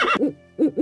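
An owl gives close, clear hoots: one longer call, then a quick pair of short hoots after a brief pause.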